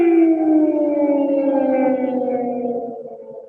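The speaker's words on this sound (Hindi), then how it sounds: "ये लगातार सायरन इस बात की इंडिकेशन है कि एयर रेड की संभावना है या मिसाइल रेड की संभावना है कीव के ऊपर" A wailing air raid siren sounding over Kyiv, a single sustained tone sliding slowly downward and fading slightly, loud and steady with no voices.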